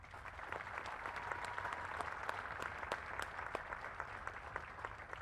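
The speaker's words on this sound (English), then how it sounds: "Let's give them all a round of applause." At an Army Advance Camp graduation ceremony, an audience claps in a soft, distant-sounding wash, with sharper individual claps popping out of the steady crowd applause.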